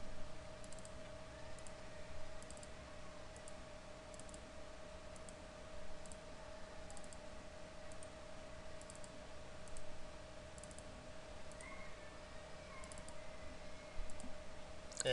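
A computer mouse clicks faintly again and again during a file upload, small scattered ticks over a steady electronic hum, with no voices.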